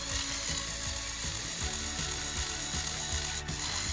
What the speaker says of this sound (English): I think the gearbox just skipped something